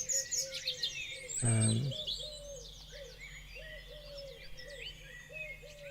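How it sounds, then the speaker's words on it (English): Collared dove cooing outdoors, a clear low coo phrase standing out over a background of chirping small birds, fairly close and moderately loud. "Maybe the is that a collared dove?"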